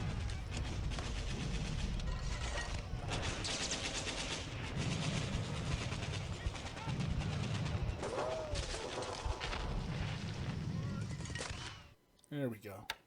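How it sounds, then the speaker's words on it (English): Machine gun fire in a WWII strategy video game set in July 1942, Japan against the Allies, with dense, sustained gunfire and battle noise throughout and a person talking over it, ending in a brief quieter tail. "Come on, machine guns,"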